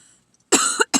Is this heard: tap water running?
no